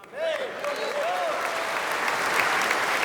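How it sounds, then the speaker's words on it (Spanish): Church congregation bursting into loud applause after a sermon, clapping rising quickly and holding steady, with whooping voices sliding over the start. "Fuerte aplauso"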